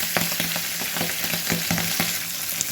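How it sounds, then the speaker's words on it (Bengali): Small fish are dropped one by one into hot oil and fry with a loud, dense, crackling sizzle that stays steady throughout, with no talking. "তেলটা গরম হয়ে গেছে এখন আমি এক এক করে সাবদা মাছগুলো দিয়ে দিচ্ছি"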